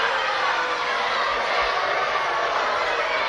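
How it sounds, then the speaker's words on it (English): Crowd at a televised professional wrestling bout, a dense, steady roar of many voices reacting with disapproval, heard throughout. "The crowd don't like it one bit."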